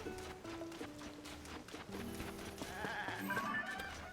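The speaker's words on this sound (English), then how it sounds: "A white goat." A white goat bleats in Zelda: Tears of the Kingdom, a few wavering bleats over soft hoof clip-clop and quiet game ambience, fairly faint.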